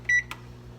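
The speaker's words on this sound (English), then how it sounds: "I'm going to set the timer for 10 minutes" Electronic kitchen timer on an oven beeps once, a short clear tone while a pie bakes at 350, followed by a faint click over low kitchen hum.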